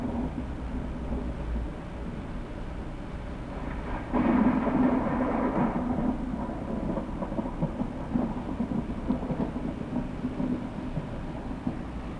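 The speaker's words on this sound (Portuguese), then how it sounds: "O som do trovão." Thunder in an outdoor nature scene: a steady low rumbling roar that swells louder for a couple of seconds midway, then settles back into a continuous dull growl with no voices.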